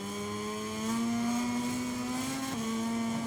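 Ducati motorcycles race in the MotoGP 23 video game, a steady high engine drone holding one pitch with a brief dip near the end, moderately loud and continuous with no talk.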